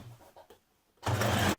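Sewing machine understitching along a jumpsuit pocket, a few faint short taps followed by one loud, close half-second burst of rapid stitching that stops abruptly.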